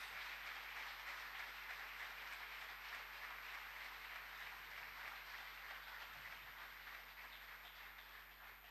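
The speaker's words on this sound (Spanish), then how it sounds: "Dale un aplauso al Señor" A church congregation at a sermon gives a steady wash of applause, even and fairly faint, that continues without pause and eases off slightly toward the end.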